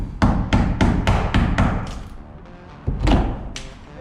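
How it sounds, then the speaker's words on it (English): A chisel is hammered into a wooden framing member to notch it for a 2-inch plumbing pipe, with loud close blows in a steady rhythm of about six strikes, a brief pause, then two or three more. "And get my chisel out here."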